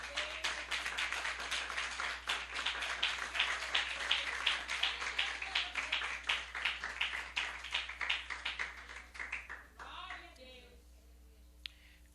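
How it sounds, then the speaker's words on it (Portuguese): A church congregation claps in quick unison for about ten seconds, a dense, steady run of sharp hand claps at close range that thins out and stops near the end, with faint room tone afterward. "dá uma salva de palmas para Jesus, rapidamente"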